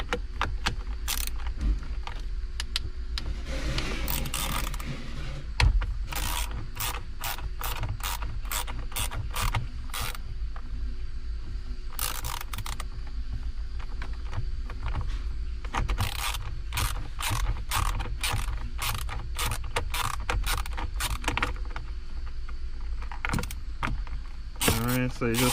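Close mechanical ratcheting and clicking as a part is unscrewed during a clock spring replacement on a Kia Sorento, with rapid repeated clicks in bursts and occasional knocks, loud and near.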